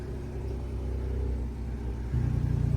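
A Ford Ranger Raptor pickup with aftermarket Fenfab downpipes and the stock exhaust, valves closed, revs twice, giving a steady low rumble that swells into a louder, deeper surge near the end, with no talk.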